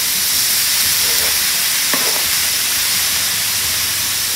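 Three ham steaks sear in a hot pan with a steady, even hiss and sizzle, a faint tap or two over the continuous frying.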